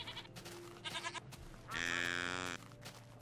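A goat bleats in a video game, one drawn-out, wavering cry standing clearly above a busy background of game sounds and music.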